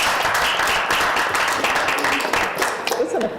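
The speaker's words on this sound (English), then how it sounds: "It's an applause night." Applause at a municipal council meeting in Logan, steady dense clapping from a seated crowd filling the whole moment, with voices murmuring underneath.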